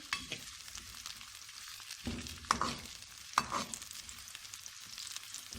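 Onions frying in a pan sizzle softly while a utensil stirs them, with a few louder scraping clinks mixed into the steady crackle; no voices.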